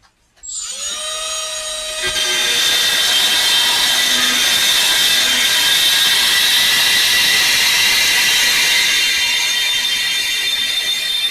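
A die grinder with a carbide bit spins up to a loud, high whine, then bites into a banjo tone ring to enlarge a hole, holding a steady, piercing grind close by for several seconds.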